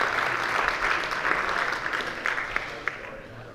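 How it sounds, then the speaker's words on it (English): A forum audience applauds a speaker coming onto the stage, with steady clapping that thins out into scattered claps and a faint murmur of voices underneath. "Give a round of applause for David for joining us today"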